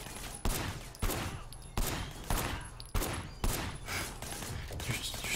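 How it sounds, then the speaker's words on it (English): Gunfire in the video game Sleeping Dogs: about half a dozen loud, sharp shots crack out at irregular intervals, each followed by a brief echoing tail over steady game ambience. "Shooting at the guys over there"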